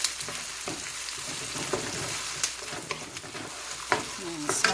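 Onions, scallion, garlic, scotch bonnet pepper and thyme sauté for a Jamaican spicy beef patty filling, crackling steadily under repeated scrapes and taps of a spoon against the pan.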